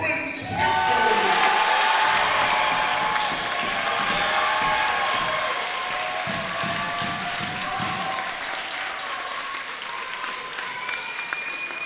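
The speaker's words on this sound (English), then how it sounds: "let's give a round of applause to the Brooklyn Friends Panthers" A crowd at a junior varsity basketball championship applauds and cheers the Brooklyn Friends Panthers, loud dense clapping with shouts that holds strong and slowly tapers, a few voices audible.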